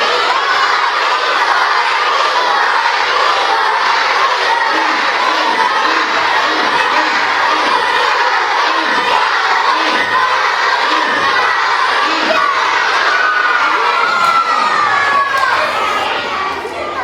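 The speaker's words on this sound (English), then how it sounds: "Was anybody cheering for our friend Al?" A large group of children at a school safety presentation shouting and cheering loudly and continuously, an excited crowd roar close by with high voices overlapping throughout.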